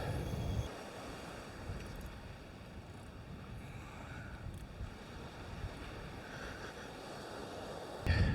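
Strong wind buffeting a microphone at Newton Beach in South Wales, a constant rough roar with low rumbling gusts and surf beneath, loud and unbroken with heavier bursts at the start and end.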